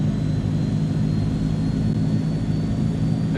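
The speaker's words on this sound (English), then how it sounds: "it does certainly sound like engine number one is starting up" Transall C-160 military transport aircraft in a flight simulator, engine number one starting up: a steady, loud low engine drone with a faint high whine running throughout, no talk.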